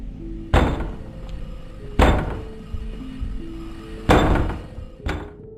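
Heavy knocking thuds on a garage door in a psychological horror video game, three loud separated bangs over a low ambient drone, with a fainter fourth knock at the end.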